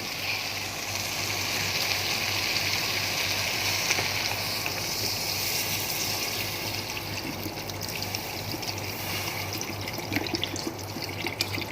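Water pours steadily into a cooking pot for chicken tinola with bottle gourd, a continuous loud rushing stream that runs for the whole stretch with no talking.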